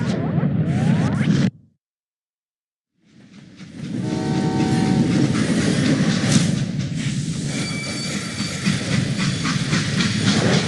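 A freight train in the video game Call of Juarez: Gunslinger rumbles loudly, cuts out briefly, then returns as a heavy rolling roar with metallic squeals and a sustained horn-like tone.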